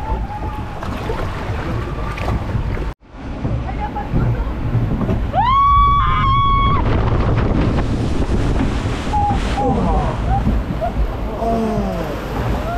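A log flume boat on the Rivière Canadienne water ride at Nigloland theme park, with water rushing and heavy wind buffeting the microphone throughout. Excited voices and squeals sound over the splashing.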